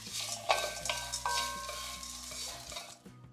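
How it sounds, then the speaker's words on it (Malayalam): Poha, raisins and grated coconut frying in ghee, heard as quiet, close stirring and soft scraping over a gentle sizzle, with no voices. "അതുപോലെ 1/2 കപ്പ് ചിരകിയ തേങ്ങയും കൂടി ഇട്ട് ഒന്ന് ഫ്രൈ ചെയ്തെടുക്കാം"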